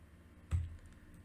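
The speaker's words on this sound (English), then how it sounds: "using the arrow keys, I'm clicking up, down, left, right" A single computer keyboard arrow key press, one short dull click standing alone against faint room noise.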